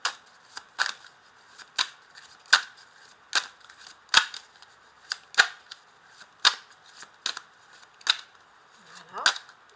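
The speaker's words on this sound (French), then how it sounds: "je vais rajouter des cartes ici, donc avec mon tarot du Rider-Waite" Rider-Waite tarot cards being shuffled and handled, giving a steady series of crisp card riffles and snaps about once a second, close and fairly loud, with a brief voice near the end.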